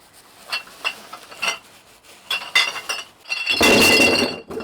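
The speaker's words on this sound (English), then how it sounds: "They've got a lot of glass bins because they've got a pub." Glass bottles clink a few times, then a louder crashing jumble of bottles tumbles into a pub's glass bin at a marina on England's canals.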